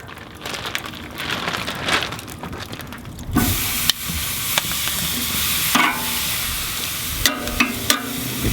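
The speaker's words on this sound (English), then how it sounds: "So we're going to put breast number 1 on there." Chicken breast for fajitas is laid onto the hot coals of a Char-Griller AKORN ceramic charcoal grill, giving a sudden loud hiss that settles into a steady sizzle with occasional clanks and scrapes.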